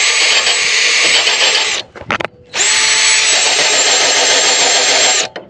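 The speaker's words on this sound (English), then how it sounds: "you just put the pin in, and then you just turn your drill on" A power drill drives a sawmill blade-sharpening tool, giving a loud, close, high whine that runs for almost two seconds, stops with a brief rattle, then restarts and runs steadily again before cutting off.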